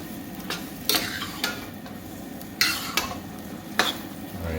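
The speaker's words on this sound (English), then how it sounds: "the rice noodles are now in. Gonna go ahead and kind of mix them up" Rice noodles are stirred and tossed in a hot pan with steady frying sizzle, punctuated by several sharp scrapes and clanks of a utensil against the pan at irregular intervals.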